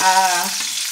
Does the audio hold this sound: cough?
no